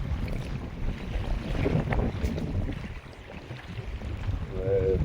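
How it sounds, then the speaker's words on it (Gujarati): Strong wind buffets the microphone aboard a fishing boat at sea, a continuous loud, low rumbling roar with gusty surges and a rushing hiss throughout, with no voices. "પવન વધારે"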